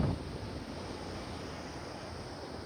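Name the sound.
wind blowing outdoors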